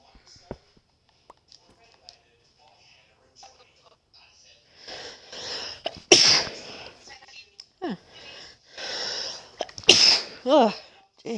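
Two sharp, loud sneezes burst out close by with a few seconds between them. Quiet clicks and faint murmuring come before them, and breathy voices sound in the gaps.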